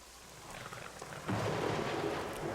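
Rain pours steadily in a video game while thunder rumbles low, swelling into a louder roll partway through, with no voices.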